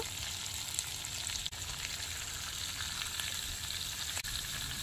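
Croaker fish frying in hot oil Mangalore style, a steady, dense sizzle and crackle that runs close and loud without pause, with no talking.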